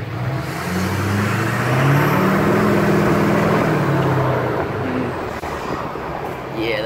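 A tuned Duramax diesel truck with deleted emissions idles while warming up, a deep steady engine drone with a slight swell partway through, close by and continuous.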